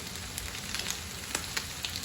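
Vegetables sizzle and crackle steadily in a pan with water, a soft continuous hiss with small pops, up close.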